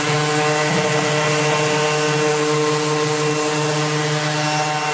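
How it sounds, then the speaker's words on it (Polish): A power sander left running unattended in a workshop while building a pallet shelf, a loud continuous motor drone with steady harmonic whine, unbroken throughout. "szlifierka nie opuściła zagrody i nie uciekła ode mnie"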